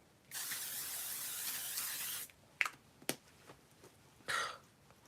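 Makeup setting spray goes off in one long, close, hissing burst of about two seconds. A few soft taps and a short final puff of spray follow.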